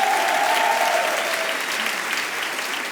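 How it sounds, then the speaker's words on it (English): A large audience claps loudly and steadily, a dense wash of applause that holds throughout with a faint tonal whistle early on. "Give them a huge round of applause as well."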